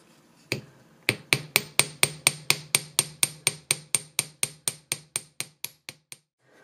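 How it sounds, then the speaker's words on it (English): A hammer strikes jewelry wire on a hard block to flatten it for a wire-wrapped seahorse pendant, about twenty sharp, evenly paced metallic taps in a steady run, close and alone with no talking. "once we've got our pieces hammered out as flat as you like them"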